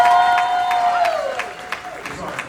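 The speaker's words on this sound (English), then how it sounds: "Can we get a quick round of applause for Shannon, looking stunning tonight?" Wedding reception guests applauding and cheering in a room, a loud sustained tone at first fading as scattered claps and crowd noise carry on, with some voices mixed in.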